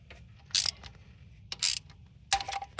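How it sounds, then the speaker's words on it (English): A hand ratchet tightens bolts on the thermostat housing of a 2016 Cadillac Escalade ESV. Three short, bright bursts of clicking arrive about a second apart against a quiet background. "now we are tightening the bolts"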